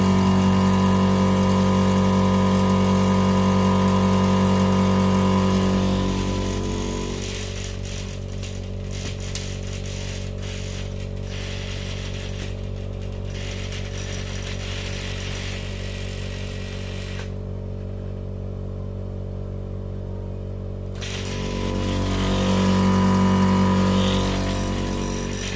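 An air compressor runs inside a homemade soundproof box with a steady low motor hum. Its level drops noticeably for a long stretch, then swells louder again near the end.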